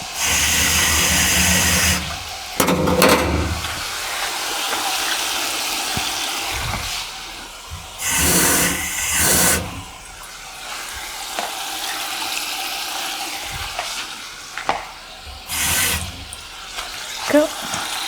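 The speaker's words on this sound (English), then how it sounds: "need a bit more water" Water poured into a pan of sizzling keema muttar, a minced meat and peas curry with tomatoes, in a home kitchen; several bursts of splashing and hissing over steady frying, near and fairly loud.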